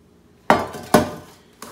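A floured metal baking pan being shaken for Irish brown bread gives two loud clanking knocks about half a second apart, with a third starting at the end, each ringing briefly.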